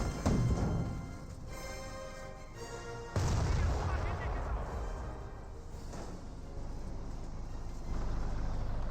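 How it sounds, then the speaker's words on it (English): A Black 88 anti-tank gun fires in the World War II strategy game Company of Heroes, booming heavily near the start and again around a third of the way in amid a dense, rumbling layer of battle noise with vehicle engines. "Black 88 fires as well, destroying some of the cover"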